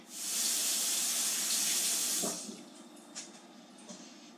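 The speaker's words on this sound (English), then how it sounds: "run them against stainless steel under cold running water" Cold tap water runs steadily over a stainless steel knife blade at a kitchen sink, a bright close hiss for about two seconds before it cuts off, followed by faint drips and small handling sounds.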